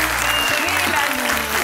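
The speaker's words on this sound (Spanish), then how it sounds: "La recibimos con un gran aplauso." A studio audience on a Chilean television talk show applauds to welcome a guest, a loud continuous burst of clapping that fills the room throughout, with music playing underneath.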